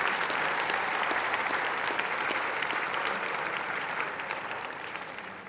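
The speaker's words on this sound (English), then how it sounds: "You can applaud again for both Democrats and Republicans" Steady applause fills an award ceremony audience for medical research advocacy, dense and sustained throughout before gradually thinning toward the end.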